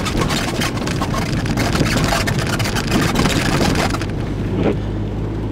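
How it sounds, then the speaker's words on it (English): A VW GTI engine running and warming up on a first drive, a loud, continuous rumble with rough texture that settles into a steadier low idle hum near the end. "The engine seems to be warming up decently."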